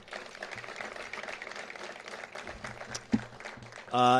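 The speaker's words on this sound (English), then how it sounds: "Another round of applause for our Congresswoman" An outdoor crowd at a housing groundbreaking ceremony gives a scattered round of applause for a Congresswoman, with thin clapping over a low hum, a sharp knock near the end and a sudden louder tonal burst at the close.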